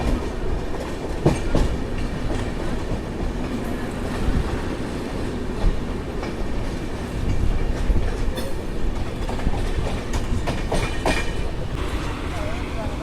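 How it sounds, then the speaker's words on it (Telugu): The Secunderabad–Shalimar AC Superfast Express rumbles loudly and steadily, its wheels clacking in a continuous rhythm close by as it rolls along the rails. "Secunderabad Shalimar AC super fast express train ఇది."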